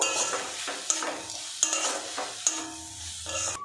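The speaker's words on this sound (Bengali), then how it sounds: "গুঁড়ো মশলা দিয়েছি আর একটু নাড়াচাড়া করে নেব" Ground spices, including chili and coriander powder, are stirred in a frying pan, with several sharp spatula scrapes over a close, steady sizzle and no voices.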